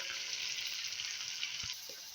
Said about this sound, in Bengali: আর এই যে ভাজা হচ্ছে বসিয়ে দিয়েছি।